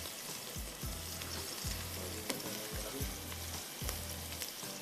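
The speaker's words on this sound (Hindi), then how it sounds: "थोड़ा सा फ्राई हो जाए, आप इसमें डाल दीजिए फ्राइड बीफ।" Fried beef sizzles and crackles in a hot pan for a Chinese-style beef dish, with steady frying hiss broken by repeated stirring scrapes and clanks.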